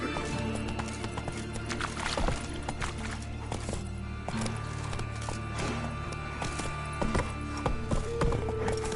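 Roach, Geralt's horse in The Witcher 3, trots with a steady clip-clop of hooves and an occasional whinny, mixed with faint background sound and brief speech.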